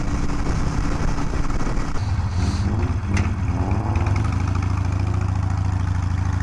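A 2020 Harley-Davidson Iron 883 with a Hammer Performance 1250 kit running, a steady loud close engine rumble that dips briefly in the middle, no talking.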